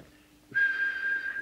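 A single steady whistle blown into the microphone of a Midland 3001 UK CB radio during a transmit alignment test, starting abruptly and holding one clear pitch for about a second.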